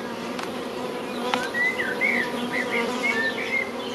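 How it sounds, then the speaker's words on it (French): Honey bees buzzing around a hive super in early summer, a steady, close, humming drone with a few higher chirping bird calls faintly mixed in behind it. "les abeilles travaillent sérieusement dans cette hausse"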